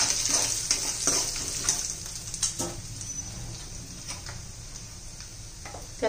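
A spoonful of grated coconut fries in a hot oil tempering, giving a steady close sizzle with light ticking crackles and a few soft stirring knocks, no voices.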